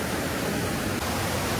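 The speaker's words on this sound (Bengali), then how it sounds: "তো বন্ধুরা জলের স্রোতটা দেখো" A stream of water pouring down rocks near the Panchalingeswar temple, a dense, steady rushing hiss that is close and continuous, with no voices.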